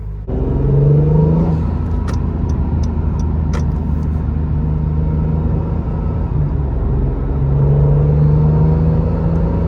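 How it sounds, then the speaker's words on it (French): A turbocharged car engine rumbles steadily at close range with a rising whine as the turbos spool, and a few faint high chirps and whooshes sound over the drone. "On entend les turbos s'ouvrir, c'est super plaisant."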